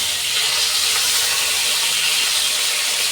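Pieces of rui fish fry in hot oil, giving a steady, loud, bright sizzling hiss that holds evenly without pauses.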